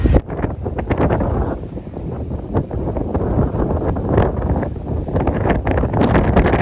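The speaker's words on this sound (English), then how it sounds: "It's quite windy" Strong wind roars and buffets across the open deck of the cruise ship Norwegian Viva at night in continuous gusts, with no voices.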